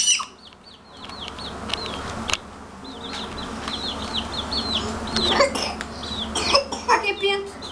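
A small chick peeps in rapid, repeated high chirps close by, while a child and an adult talk and cough over it.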